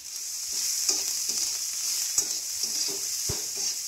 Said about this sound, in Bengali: পেঁয়াজ কুচি, কাঁচা লঙ্কা কুচি দিয়ে একটু নেড়ে নিই।